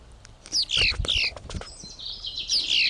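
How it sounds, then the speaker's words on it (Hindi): Small birds chirp close by, with quick, bright tweets repeating in short bursts over faint background noise. "अपनी प्यारी सी आवाज़ में चहकने लगी, चू चू चू चू चू"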